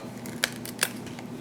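Scissors snip through artichoke leaves in two sharp, close cuts about half a second apart, over a low steady background hum.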